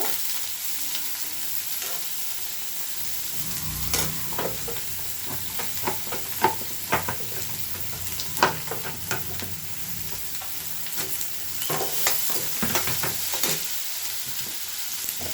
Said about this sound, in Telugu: జీలకర్ర వేస్తానండి ఫస్ట్